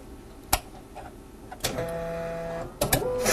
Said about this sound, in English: Just going to run this sample on the hematology machine